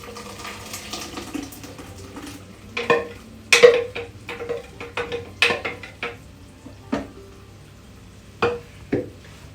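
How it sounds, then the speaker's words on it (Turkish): Tomato soup is stirred in a pot on the stove, with soft scraping and clinking strokes in an uneven rhythm over a low background hum. "Karıştırıyorum."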